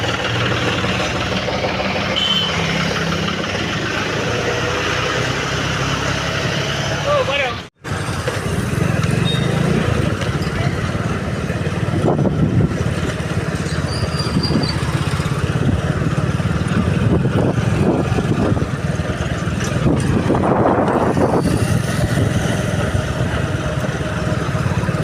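A John Deere 5204 tractor engine runs at a steady, close idle after a service, a dense continuous rumble that cuts out for a moment early on and then carries on evenly.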